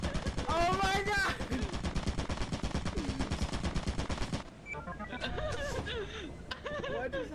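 Automated turret in Lethal Company firing rapid, loud bursts of machine-gun fire that stop abruptly, with people talking, laughing and exclaiming over and after the shots.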